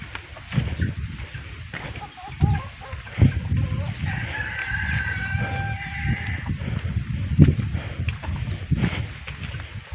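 A rooster crows in a long, stretched call in the middle, among clucking chickens and farmyard noise, with some distant voices.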